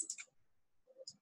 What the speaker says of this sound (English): And then click on save now.